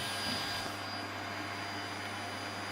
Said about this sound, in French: Tu passes l'aspirateur, Jade?